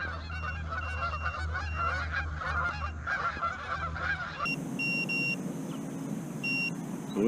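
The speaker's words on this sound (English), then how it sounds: "Oh, here comes some more. Here comes some more flying in. Come on geese, come on and join me fishing." Geese honk repeatedly while flying in over water near an inflatable fishing kayak. The calls are clear and fairly close and continue without a break. High electronic beeps from a fish finder sound alongside, growing more prominent in the second half.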